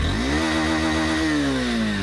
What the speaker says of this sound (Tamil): இன்ஜின் நாய்ஸ் இப்போ கேட்டுருங்க.